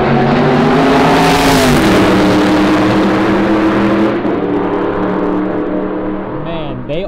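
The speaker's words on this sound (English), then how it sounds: "watching all of these cars basically flying by" Loud roaring engines of time attack race cars speeding past one after another on a straightaway at Superlap Battle 2024, the pitch sweeping down as each passes close by.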